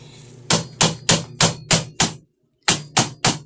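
Sharp hammer blows strike in a steady rhythm, about nine hits with a brief pause before the last few, close and loud.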